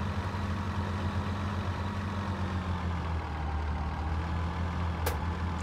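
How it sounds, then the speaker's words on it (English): A tractor engine in Farming Simulator 2017 drones at a steady, low idle-like hum, loud and continuous with a faint rhythmic throb and no talking. "Now this tractor doesn't have the most horsepower in the world"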